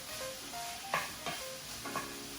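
Sausage frying in a pan with its oil rendering out for jambalaya, a low steady sizzle with a few soft clicks and stirring scrapes, fairly faint and with no voices.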